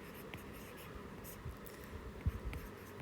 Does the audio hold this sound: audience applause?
no